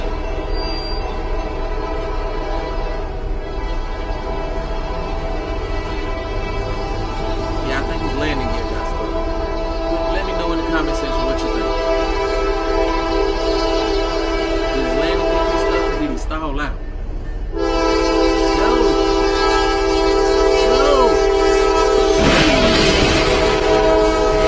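A train rolls past on railroad tracks, a loud sustained horn blaring over the rumble of wheels and cars, with a louder burst of horn near the end.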